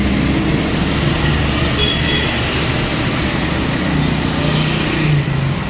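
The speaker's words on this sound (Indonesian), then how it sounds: "ternyata ini ada mesin khusus nih" A special street-food processing machine runs with a steady, loud mechanical rumble and whir throughout, close by with no speech over it.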